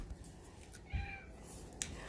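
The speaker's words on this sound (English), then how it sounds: "Oh, there's a kitty cat." A cat meows once or twice, faint and fairly close, in a quiet indoor room with light background noise and no talking.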